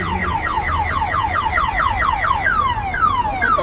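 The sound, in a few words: car alarm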